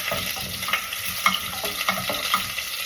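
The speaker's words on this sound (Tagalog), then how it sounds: "At dahil mainit ng mantika, uunahin natin tong luya." Chopped ginger sizzling in hot cooking oil in a pan, a steady dense crackle with small stirring clicks, close and continuous with no talking.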